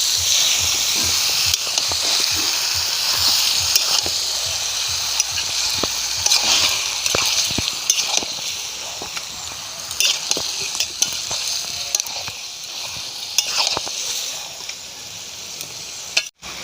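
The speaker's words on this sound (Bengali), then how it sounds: "এবার আমি নাড়তে চাড়তে থাকবো।" Country chicken pieces are stirred into red masala in a pan for a village-style curry, with a loud hissing fry throughout and a steady run of spoon scrapes and knocks. A sharp clatter comes right at the end.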